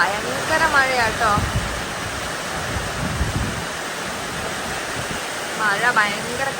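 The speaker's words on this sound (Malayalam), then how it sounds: "മഴ ഭയങ്കര കാറ്റാണ്." Heavy rain driven by strong wind roars in a broad, constant wash, close and loud, with a few brief voice-like swells over the noise.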